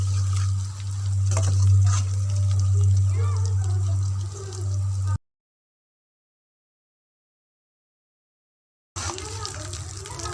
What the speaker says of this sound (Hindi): आलू फ्राई हो गए हैं, अब हम इनको निकाल लेंगे।